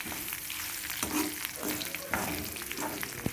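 Chilies frying in a pan on a low flame for ginger and curry-leaf chutney, a steady soft sizzle with intermittent stirring scrapes, close and continuous.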